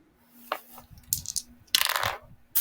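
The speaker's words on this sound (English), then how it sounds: "I dropped one of the dice" A single die drops onto a table and rattles and rolls in a few quick, light clatters in a quiet indoor room.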